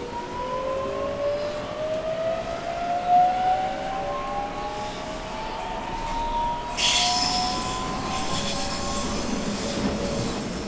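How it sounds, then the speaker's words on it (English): A Sydney train runs from Central toward Circular Quay with a steady rumble and rolling rail noise, rising and falling whines from the traction motors, and a sharp hissing burst partway through. "This episode is going to be a train ride from Central to Circular Quay"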